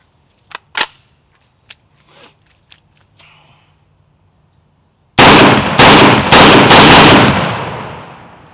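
A Kel-Tec PLR-16 pistol fires a quick string of loud, close shots in rapid succession after a few quiet handling clicks and rattles, then stops as it jams.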